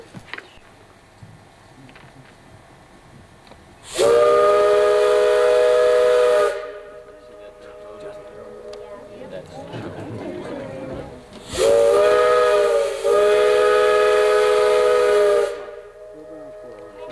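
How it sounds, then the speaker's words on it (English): An old mine steam whistle in a Colorado valley gives two long, loud, steady blasts, each lasting several seconds, with a quieter rumbling gap between them. "Or blow this steam whistle."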